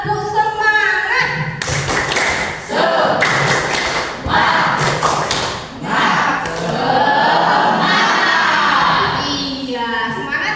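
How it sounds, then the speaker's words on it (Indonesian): A class of school students claps a rhythmic patterned cheer in unison, sharp bursts of claps alternating with chanted voices, loud and close in the classroom. "Tepuk semangat."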